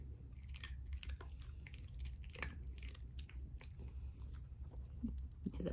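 A Newfoundland dog chews a crunchy treat up close, with soft irregular crunches and bites over a quiet background.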